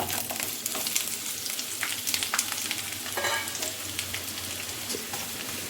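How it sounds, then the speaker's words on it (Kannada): Chopped onion frying in oil in a pan, a close, continuous dense sizzle and crackle with occasional stirring scrapes, steady and fairly loud throughout with no voices. "ಇದಕ್ಕೆ ಕಟ್ ಮಾಡಿ ಇಟ್ಕೊಂಡಿದ್ದ ಈರುಳ್ಳಿ ಹಾಕ್ಕೊಳ್ತಿದ್ದೀನಿ."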